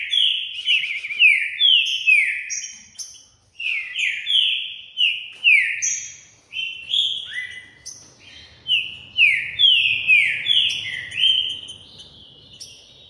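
A female songbird sings repeated bright, descending whistled phrases in a steady, unbroken series, close and clear, with only faint low background noise beneath.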